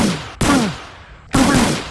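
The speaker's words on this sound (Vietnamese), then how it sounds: "mình nhận được một khẩu súng đồ chơi này các bạn ơi" Toy gun firing twice, each shot a sharp loud burst with a descending whistle-like sweep, separated by about a second of quieter decay; no voices.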